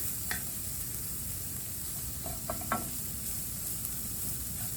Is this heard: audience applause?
no